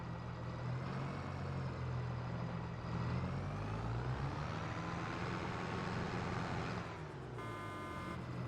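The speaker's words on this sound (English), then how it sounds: "I really loved the engine sounds they gave these tractors." A tractor engine in the Farming Simulator video game drones steadily with a deep, even rumble that shifts pitch slightly as it works, ending with a brief truck-like horn blast.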